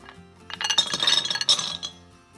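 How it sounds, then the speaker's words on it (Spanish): Ice cubes clink and rattle against a glass bowl as cold water from the fridge is added for an inverted bain-marie. A cluster of bright, close clinks follows a quiet start, then trails off. "Ponemos unos hielos y el agua bien fría de la nevera."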